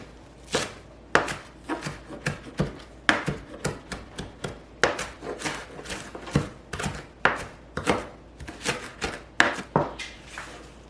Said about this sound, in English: Kind of just start chopping everything.